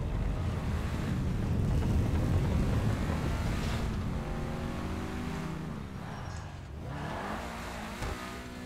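A car in a GTA parkour stunt race runs through a wash of wind and surf-like rushing noise, its engine pitch rising and falling in a few sweeps, fairly soft and distant.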